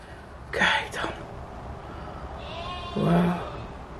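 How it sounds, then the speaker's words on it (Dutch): A goat bleats in the background outdoors at sunrise, giving two separate calls a couple of seconds apart. The calls are moderately loud over quiet ambient noise, with a short burst of noise near the start. "Oh, de geit op de achtergrond."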